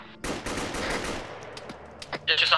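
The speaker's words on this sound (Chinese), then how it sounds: "他朝我们开火了，他朝我们开火。" Rapid machine-gun fire in the military video game Arma 3, a dense sustained burst followed by a few scattered single shots, fairly close and loud.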